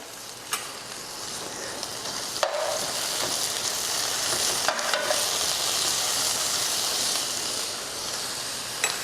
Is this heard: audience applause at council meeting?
no